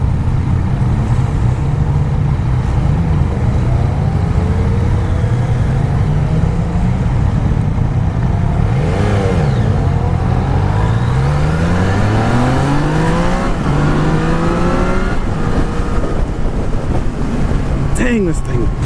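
A Yamaha XSR900 motorcycle engine pulls hard through several gears, each rising whine climbing and dropping at the shifts, loud and close beneath heavy wind buffeting, with a rider's voice faintly heard at times.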